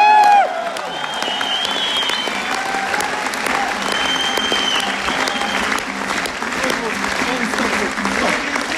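Audience in a hall applauding steadily, dense clapping from many hands sustained throughout, with a voice speaking over it at the start and faint voices mixed in.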